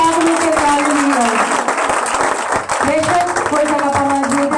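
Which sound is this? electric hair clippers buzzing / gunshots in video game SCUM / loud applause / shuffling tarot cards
loud applause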